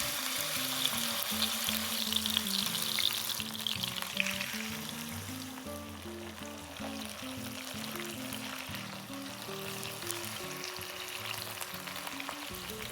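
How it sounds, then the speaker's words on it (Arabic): Chicken frying in a pan of vegetable oil, a steady close sizzle with crackling running throughout, joined by low tonal background music. "وأخلي بالطاوة 3 خواشي كوب زيت نباتي، وأبدي أقلي الدجاج."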